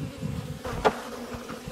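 Honeybees from a package drone in a steady low hum during installation into a hive, with a brief louder buzz as one flies close by.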